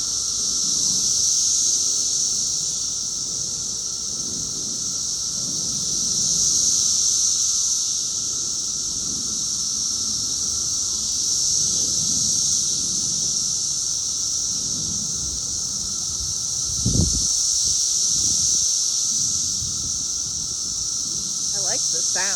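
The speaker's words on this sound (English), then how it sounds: "cicada party." Cicadas drone outdoors in a loud, continuous high-pitched chorus that swells and fades slightly, with a brief thump and soft rustling near the end.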